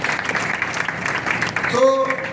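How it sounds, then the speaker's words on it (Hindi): Audience applause at a church gathering in Haryana, a broad steady clatter of clapping throughout, with a voice briefly rising over it near the end. "जोर से इनके लिए भी तालियां लगाई दीजिए।"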